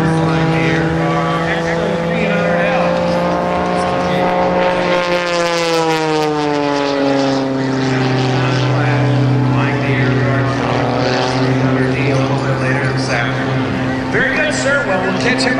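Aerobatic propeller airplane performing at the Jones Beach airshow, a loud engine roar that sweeps down in pitch as the plane passes, with a commentator talking over it throughout.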